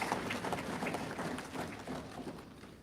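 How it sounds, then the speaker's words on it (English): Audience applause during a national address in Guyana, a steady, moderately loud patter of many hands clapping that holds evenly for a few seconds. "I think we need to applaud our leaders of the past."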